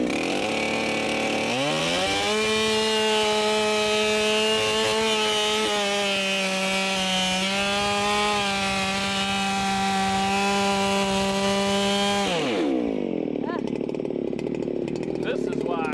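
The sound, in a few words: chainsaw bucking big oak firewood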